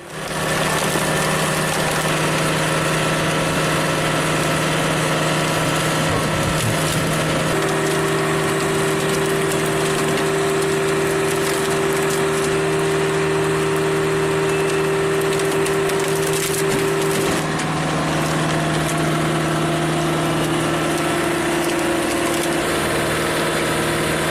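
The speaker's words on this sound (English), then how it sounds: "The power of the engine, combined with its flexible design, allows the machine to split wood quickly and efficiently." A steady mid-pitched engine drones loudly throughout, with a sustained hydraulic whine rising partway and occasional cracking and splitting of wood, no talking.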